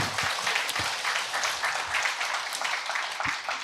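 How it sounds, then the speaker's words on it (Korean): An audience at a humanities lecture forum applauds the lecturer, a former university president, with brisk continuous clapping from many hands, a few closer claps popping out of the crowd. "다시 한 번 더 큰 격려의 박수 부탁을 드립니다"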